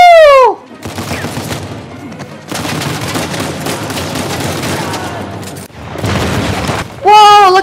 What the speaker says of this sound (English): Whoa, look at that explosion!